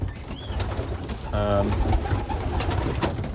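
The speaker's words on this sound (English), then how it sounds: "these are the pigeons from the last video" Young racing pigeons coo softly inside a loft, a low murmuring call rising briefly from a steady background hum of birds and room noise.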